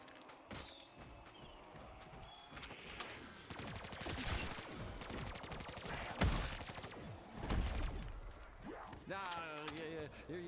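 Rapid bursts of gunfire from a Call of Duty Black Ops 3 Zombies match in the Shadow of Evil map, sustained automatic fire and heavy shots rattling loudly for several seconds, with game voices and effects mixed in.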